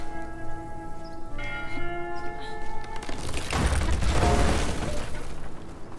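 A large bell in a video game falls and rings out with sustained metallic tones, then a heavy rumbling crash and noisy wash swell over it before fading.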